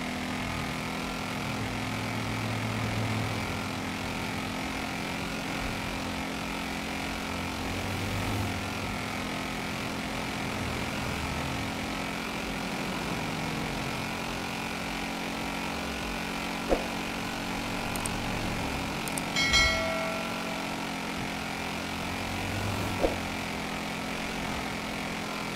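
A motorcycle in GTA V, an adventure bike rather than a racer, holds a steady engine drone at its top speed of about 180 km/h, continuous and even throughout with a few brief clicks.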